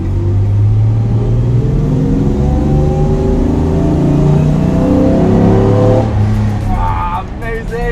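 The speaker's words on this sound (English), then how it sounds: "so listen to the engine." A race car engine revs hard through a tunnel, loud and close, its droning tone climbing steadily under full throttle before the sound shifts abruptly near the end.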